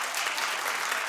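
Studio audience of a daytime talk show applauding, a dense, steady wash of many hands clapping together at a loud, even level throughout with no pauses.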